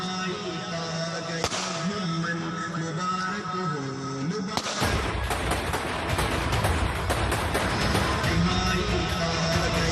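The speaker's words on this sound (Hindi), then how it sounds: "आसमान में अंधाधुंध फायरिंग" Militants celebrating the Taliban victory in Pakistan-occupied Kashmir fire indiscriminately into the sky. Tonal music comes first, then a dense, continuous crackle of rapid overlapping shots takes over for the second half.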